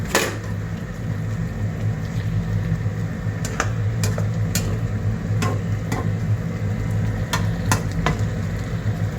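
Chicken Bicol Express is stirred in a pan over a constant frying sizzle, with a spoon tapping and scraping in sharp, irregular clicks, no voices.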